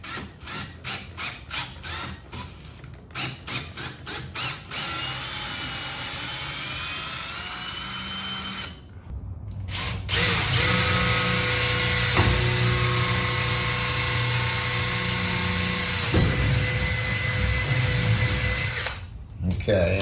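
A power drill fitted with a torque bit drives into the fittings of an Arctic Tern Wildlands door. It whines loudly in long sustained runs, with short stuttering bursts at the start and brief pauses between runs.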